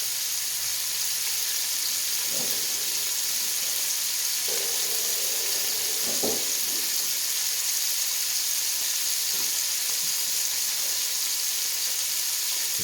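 A fatty slice of ham sizzles and spits steadily in a hot pan as its fat renders out for Cajun red beans and rice, a constant close hiss with a few soft clinks.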